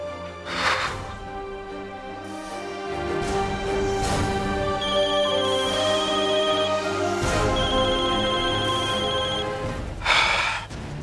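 A phone ringtone sounds in a Marathi TV drama scene, with short repeating electronic tones playing over a steady bed of background music.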